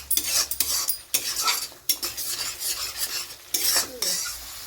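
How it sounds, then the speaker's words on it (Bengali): Yogurt stirred and fried in a little oil in a pan for chicken do pyaza: close, irregular metal scraping and clattering of the spoon against the pan over a light sizzle, with no speech. "দই আমাদের ভাজা হয়ে গেছে"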